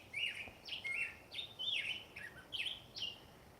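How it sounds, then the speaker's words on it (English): A loud bird tweets repeatedly near a backyard feeder, sounding about seven sharp, evenly spaced chirps in a row over a quiet outdoor background. "a loud bird that's tweeting at me"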